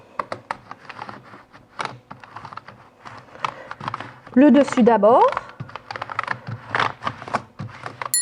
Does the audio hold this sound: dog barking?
no